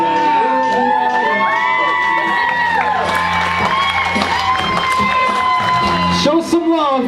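Wedding guests break into cheering and whooping for the newlyweds, a lively crowd with shouts and celebratory voices over a continuous din, close and loud, with some clapping mixed in.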